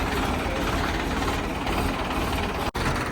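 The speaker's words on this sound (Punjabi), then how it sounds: "ਸਟਾਰਟ ਕਰਤਾ ਟਰੈਕਟਰ ਆਵਾਜ਼ ਕਰੋ ਚੈੱਕ" A 5911 tractor engine runs steadily at close range, a dense rumbling drone with rattling mechanical clatter, briefly cutting out for an instant near the end.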